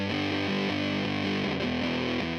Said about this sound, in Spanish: Usaban guitarras con distorsión gruesa,